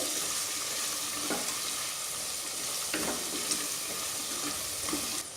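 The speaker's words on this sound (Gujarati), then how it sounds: "હવે આપણે બધા જ મસાલા શાકભાજી સાથે બરાબર મિક્સ કરી લઈએ" Spices and chopped vegetables are stirred in a hot pan for a seven-grain khichdo, giving a steady loud sizzle broken by occasional spoon scrapes against the pan.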